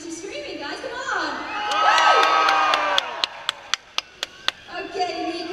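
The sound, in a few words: crowd of fans cheering, applauding and screaming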